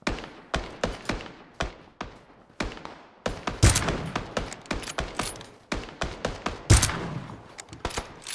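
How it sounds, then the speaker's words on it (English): Gunfire in the battle royale video game PUBG cracks out as a rapid series of sharp shots, single rounds and quick bursts spread throughout at moderate loudness. "You're shooting at me."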